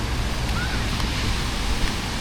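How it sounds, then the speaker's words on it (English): Ocean surf washes onto Da Nang beach in a steady, broad roar mixed with wind rumble, constant and fairly loud throughout. "Bit of surf today,"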